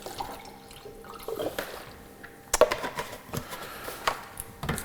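Cappuccino cleaner degreaser poured into half a litre of water, with soft close drips and splashes alongside a few light clinks of the container.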